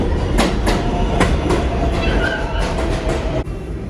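A train pulling into a station, loud and close, with a steady rolling rumble, rhythmic clickety-clack from the wheels on the rail joints and a faint metallic squeal near the end.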